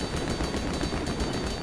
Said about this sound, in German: Ah, jetzt kommen noch mal Hubschrauber.